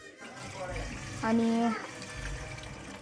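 Water is poured into a kadhai set over chicken cooking in salted water, giving a brief splashing pour as a person talks.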